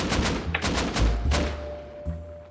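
Explosive-round gunfire in Rust, a burst of several loud, closely spaced shots with booming low thuds, followed by a sustained ringing tone and one more shot near the end.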